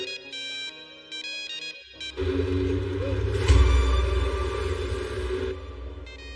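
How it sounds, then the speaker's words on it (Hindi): A mobile phone ringtone plays in a Hindi action film scene, a repeating melodic ring up front that gives way to loud rumbling background sound and music. "फोन किसका है?"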